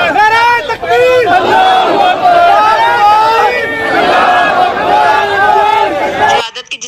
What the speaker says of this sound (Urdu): فضا اللہ اکبر کے نعرے سے گونج اٹھی